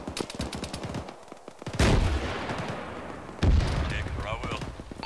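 Rifle and machine-gun fire rattles in bursts and sharp cracks during a ShackTac military game mission, with two louder booming volleys, while players talk over the shooting.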